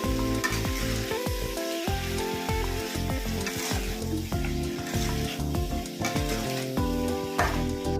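Potato and ridge gourd fry in a pan for a prawn dish while being stirred, giving a steady dense sizzle with a busy scrape of the spoon against the pan throughout, close and fairly loud with no talking.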